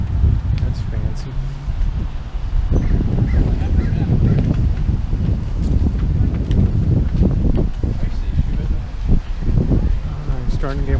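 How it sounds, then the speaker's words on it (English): Gusty wind buffets the microphone with a constant low rumble while people talk and move about outdoors in Healdsburg, California. "It's starting to get windy."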